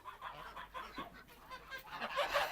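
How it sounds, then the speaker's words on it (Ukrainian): Chickens on a village farmstead in the Chernihiv region cluck and murmur nearby, a continuous low chatter of fowl that grows busier toward the end. "Ну і хочу сходити до курей."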